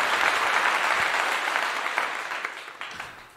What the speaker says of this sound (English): A clap to you.